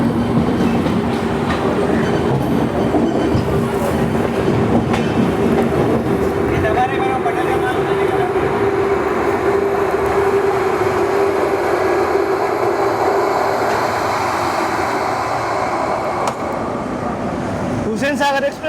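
An express train pulls out on its Mumbai–Hyderabad run, a steady rumble of rolling carriages with faint clickety-clack and a sustained tonal hum, heard from on board as a voice talks over it.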